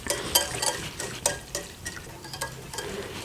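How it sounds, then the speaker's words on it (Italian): A spoon stirs béchamel sauce in a pan as the milk heats, giving soft steady scraping and swirling strokes with a light sizzle underneath, close and continuous without any speech. "Soprattutto quando il latte incomincia a scaldarsi non bisogna smettere di girare"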